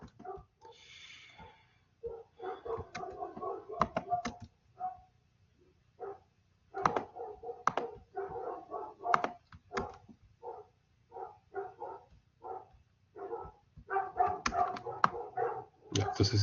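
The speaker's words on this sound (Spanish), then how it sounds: "Están ladrando los perros en mi barrio." Neighborhood dogs bark repeatedly in irregular bursts, mid-distance, with faint yips and clatter between volleys over a low background hum.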